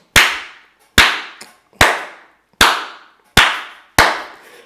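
A church congregation claps in unison, six sharp loud claps at a steady beat, each ringing out with a long echo through the hall before the next.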